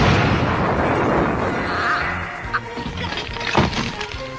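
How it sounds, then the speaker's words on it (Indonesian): An anime laser blast tears apart Android 16 in a loud, roaring burst of explosive noise that fades into scattered crackles and smaller pops of debris. "Dia pun langsung menembakkan sebuah tembakan laser ke arah Android 16 yang akhirnya membuat tubuhnya hancur menjadi berkeping-keping"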